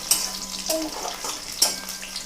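Crushed garlic frying in hot oil for bhadang, a puffed-rice snack, gives a steady soft sizzle with a few brief stirring scrapes and clinks, heard close and alone.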